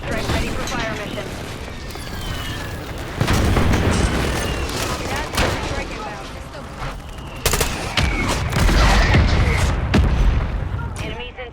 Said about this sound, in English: Friendly airstrike in the AO. Mortar strike ready for fire mission.